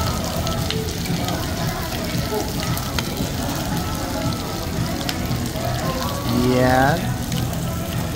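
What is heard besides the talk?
pork frying in a pan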